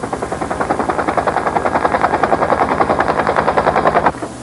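A helicopter's rotor chops in a fast, even, loud rhythmic beat close by, steady for about four seconds before easing off, with no voices.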